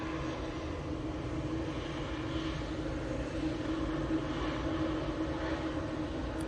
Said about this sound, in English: TUI Dreamliner making its way on to 2-3 left.